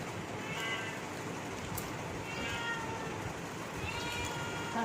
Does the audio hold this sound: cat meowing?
yes